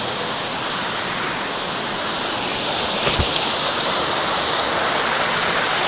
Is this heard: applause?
no